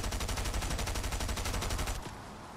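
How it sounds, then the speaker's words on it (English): Rapid automatic gunfire in a shooter video game, fired from a mountaintop, a fast even rattle of shots that is loud and steady for two seconds before cutting off abruptly. "shooting from the top of the mountain"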